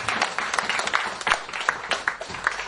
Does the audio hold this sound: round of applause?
yes